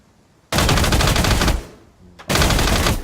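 Automatic gunfire in Rainbow Six Siege comes as two loud, rapid bursts, each lasting about a second with a short gap between them, with no talk over them.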